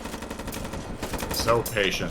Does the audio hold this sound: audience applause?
no